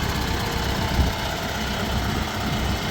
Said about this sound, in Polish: Właśnie zjeżdża na plac ciągników.